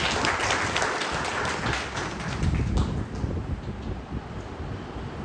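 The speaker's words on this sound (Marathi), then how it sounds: "एकदा जोरदार तुमच्यासाठी टाळ्या होऊन जाऊन दे" An audience at a Vaishya community charitable trust gathering claps together, a dense burst of applause that is strongest early and then thins out over a few seconds.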